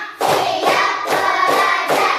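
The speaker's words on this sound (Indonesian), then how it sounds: "Tepuk satu, tepuk dua, tepuk tiga, tepuk empat, tepuk lima." Schoolchildren in a classroom play a counting clap game, producing a series of loud, evenly spaced group claps in steady rhythm, close and energetic, with voices chanting alongside.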